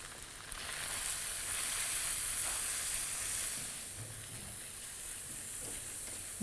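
Potatoes, cauliflower and spices with asafoetida sizzle as they roast in a pan for ginger aloo gobi. The hiss is steady and close, swells briefly, then settles to a constant crackle, with no voices.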